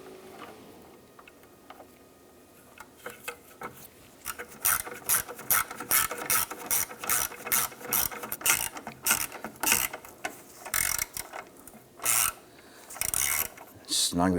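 A socket wrench on an extension ratchets a horn assembly bolt tight on a 2005-2007 Ford Five Hundred, giving a quiet start, then steady rapid clicking bursts with brief pauses, close by and with no talk.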